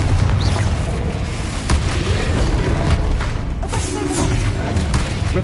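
A Confringo fire-blast spell goes off in Hogwarts Legacy: loud, dense booming impacts and bursts over a continuous roar of combat noise, with faint voice underneath.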